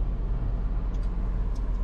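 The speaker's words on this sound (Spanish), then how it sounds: "pasan los coches y no hay manera" Cars passing along a road in Playa del Carmen, a steady low traffic rumble and engine drone that fills the whole moment without pause, fairly loud and close, with no voices over it.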